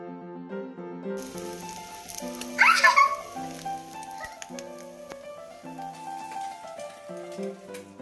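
Moong dal dosa (pesarattu) sizzling on a hot pan, with a brief louder hiss burst near the middle beneath steady background music.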